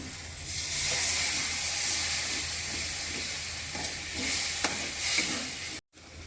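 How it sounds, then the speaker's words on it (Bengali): Water hits a pan of frying spice paste for egg curry with a loud hiss and sizzle, and stirring scrapes follow before a brief cut in the sound near the end. "মশলাটা কষানো হয়ে গেছে, জল দিয়ে দিচ্ছি।"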